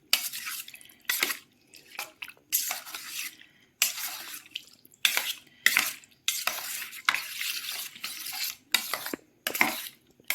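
Raw chicken pieces being mixed by hand with a beaten egg for pakora, giving wet, squelching bursts of slapping and squishing in an uneven rhythm with short pauses, close and moderately loud, with no talking.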